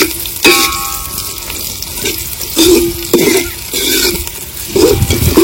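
Onion and curry leaves frying in oil for a fenugreek chicken dish, a steady sizzle broken by repeated stirring scrapes and clatters, close and fairly loud with no talk.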